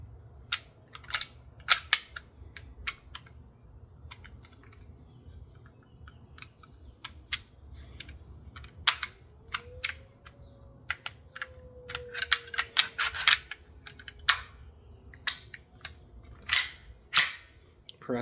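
CZ-52 pistol with a scope mount being reassembled after field stripping, a string of sharp metallic clicks and snaps close up at uneven intervals, growing denser toward the end, over a quiet background.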